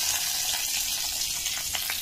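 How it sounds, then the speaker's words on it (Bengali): Dried chili tempering sizzles in hot oil for a paneer dish, a loud, steady crackling hiss with small pops, close up and without voices. "একটু লঙ্কা ফোড়ন দেবো"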